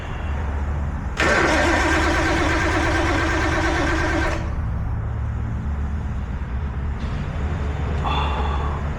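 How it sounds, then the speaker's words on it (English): A Nissan Skyline engine cranks over for about three seconds, a loud steady whirring of the starter, followed by a quieter idle-like hum and a brief faint rattle near the end. "I'm gonna crank this over."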